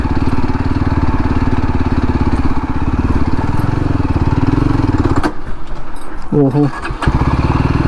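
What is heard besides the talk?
Yezdi Adventure 2024 motorcycle engine riding off-road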